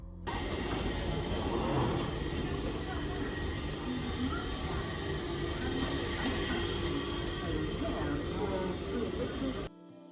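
A London Underground tube train rumbles at Stratford station, a loud sustained roar of wheels and motors that fills the platform before cutting off near the end.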